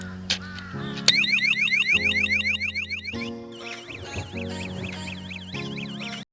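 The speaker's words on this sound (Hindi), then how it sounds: "मैं सेल्फ दे रहा हूँ पर बाइक स्टार्ट नहीं हो रहा है और अलार्म बजता ही जा रहा है।" An aftermarket anti-theft alarm on a Royal Enfield 350X motorcycle sounds close by, cycling through shifting electronic warbles, chirps and steady tones in repeating patterns, with no talk.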